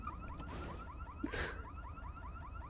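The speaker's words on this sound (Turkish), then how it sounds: "Alarm çalışıyormuş." An alarm wails faintly in a repeating rising-falling siren pattern, steady and rhythmic at a distance, broken by a brief swishing rustle and a small clatter nearby, with no voices.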